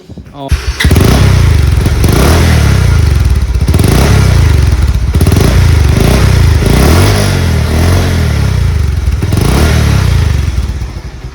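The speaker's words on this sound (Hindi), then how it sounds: "बाइक की साउंड इस टाइप की आ रही है।" A Bajaj Pulsar 150 motorcycle engine fires up and keeps running loudly and close, a continuous rough chugging idle with clattering mechanical noise.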